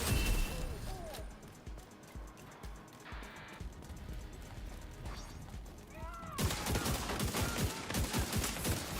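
Rapid bursts of gunfire from a player's weapon in The Division 2 crackle through a loud shooter battle, with clustered shots growing denser toward the end amid game effects and mechanical clatter.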